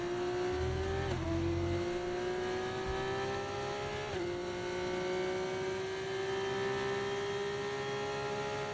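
An F1 race car engine from the F1 24 video game, a loud steady high-pitched whine with two brief dips as the driver lifts and brakes into corners before the revs climb again.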